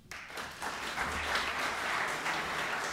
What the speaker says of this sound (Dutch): Alvast graag uw applaus.